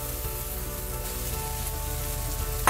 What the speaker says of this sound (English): I'm going to add the pork now